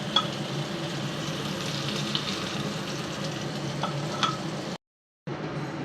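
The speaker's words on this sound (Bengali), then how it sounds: "বেশি কড়া করে ভাজবো না, হালকা করে ভাজবো।" Fish frying lightly in hot oil gives off a steady, moderate sizzle with faint crackles. The sound cuts out briefly near the end before resuming.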